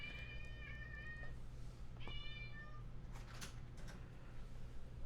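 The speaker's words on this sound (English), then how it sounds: "That was a strange meow." A pet cat gives two drawn-out, loud meows close by, the second one strange and yowling, over a steady low hum with a few clicks afterward.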